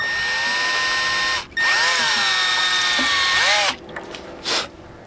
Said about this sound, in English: I just basically need to drill that out